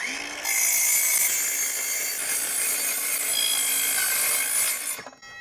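A carbide saw blade cuts slowly through thin sheet metal salvaged from a fridge, giving a continuous, close, loud grinding rasp that holds steady for several seconds before cutting off abruptly.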